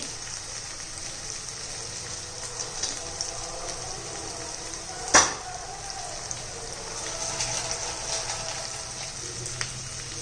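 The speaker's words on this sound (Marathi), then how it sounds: "ते चांगलं तेलामध्ये परतून घेऊया." Onion-garlic masala, turmeric, coriander powder and Kashmiri red chilli powder frying in oil, a soft continuous sizzle with one sharp clatter midway, close but fairly quiet.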